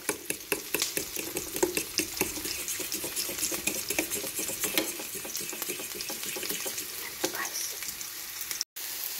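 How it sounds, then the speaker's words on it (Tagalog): Mushrooms stirred in a hot pan for a bitter melon breakfast dish, dense close sizzling with quick clattering utensil strokes throughout, briefly cutting out near the end, no talking. "Halo na po natin ang ating mushroom."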